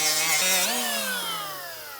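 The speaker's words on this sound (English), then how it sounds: "I may have to use a different buffing pad to clean it up" A power buffing pad strips paint from a 65-year-old candy machine, a whining tone that dips then slowly drops in pitch and fades as the tool spins down, close by.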